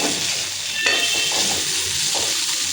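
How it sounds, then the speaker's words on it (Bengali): Potatoes and onions fry in a pan with a steady, close hiss of oil that holds constant throughout, with a faint scrape or clink partway and no talk. "ভাজছি"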